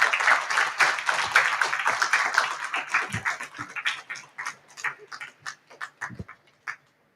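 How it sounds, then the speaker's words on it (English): Audience applause in a lecture hall welcoming an emeritus professor to speak, dense clapping from a crowd that gradually thins into scattered individual claps before stopping. "Please welcome him with a round of applause."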